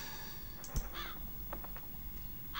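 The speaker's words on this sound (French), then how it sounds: "Ah, oh, saleté d'oiseaux." Birds cawing in the video game Beyond the Unknown: two or three harsh, crow-like caws heard briefly over a steady ambient background hum, fairly faint and mid-distance, with no talk.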